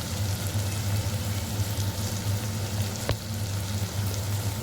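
Spices and coriander powder sizzling in hot oil in a pan for moong dal khichdi, a steady close frying hiss with one sharp clink partway through.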